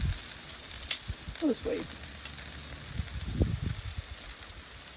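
Bacon sizzling on a Blackstone griddle, a steady low crackle and hiss under brief speech, with a few scraping and stirring sounds mixed in.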